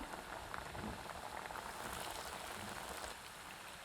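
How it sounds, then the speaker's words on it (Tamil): Vada batter bubbles in hot oil for a Pongal feast, a soft, continuous rain-like crackle of frying heard up close at low volume, easing slightly near the end. "எண்ணெயில் போட்டுக்கலாங்க எண்ணெய் சூடாக இருக்கிறனாலங்க பார்த்து மெதுவாக போட்டுக்கணும்"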